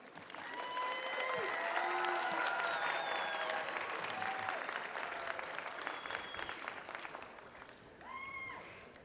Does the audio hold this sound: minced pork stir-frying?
no